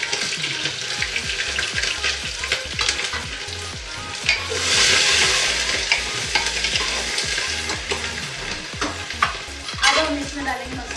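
Onions hit very hot oil in a home kitchen pan, giving a continuous loud sizzle with frequent stirring scrapes and clatters, close up, with no talking.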